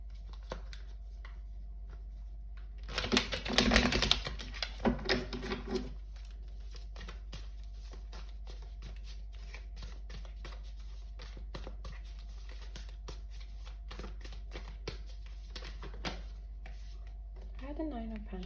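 Tarot cards being shuffled and pulled, a burst of quick riffling and flicking card sounds for a few seconds, then soft intermittent taps and slides over a steady low background hum.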